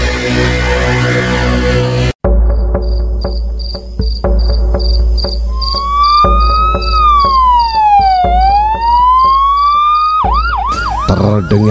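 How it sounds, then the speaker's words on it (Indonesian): An ambulance siren wails in a rising and falling sweep over a dense chorus of chirping crickets, with a sudden break and shift partway through before a fast yelping pattern at the end. "Terdengar suara mobil ambulans saat mengantar jenazah adik yang paling kusayangi Maria"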